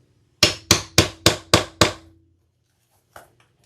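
Six sharp hammer strikes set wide rivets with a setting die on a handbag, evenly spaced and loud, followed by silence and a faint tap.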